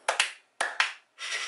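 Sharp hand claps ring out in a quick pair, then another pair, followed by a longer burst of noise, close and dry in a quiet room.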